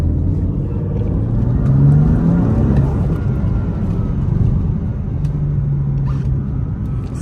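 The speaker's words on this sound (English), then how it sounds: "You hear that turbo though?" BMW M3 F80 engine with turbo, a loud rumbling drone that rises and falls as it revs from inside the car, with no talk over it.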